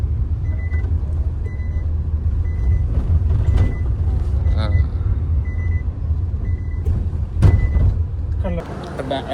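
Renault Kiger AMT car on a test ride, with a steady low engine and road rumble under ongoing talk, intermittent beeping tones and a brief swell of acceleration near the end.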